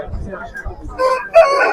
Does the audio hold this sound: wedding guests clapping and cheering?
no